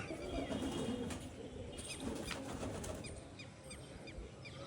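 Pigeons, including a kach jhallar bird, flap their wings in bursts and give scattered calls against a steady outdoor background, fairly close, with no clear talking.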